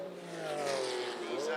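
Big bore race cars, including a Corvette, run on track at Lime Rock Park during a vintage racing weekend, a steady engine drone with rising and falling pitch heard under a commentator's voice.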